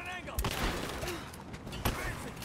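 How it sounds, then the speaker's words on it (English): Shotgun blasts in Rise of the Tomb Raider, with a few heavy booming shots spaced apart amid game combat noise while someone talks over them. "This shotgun!"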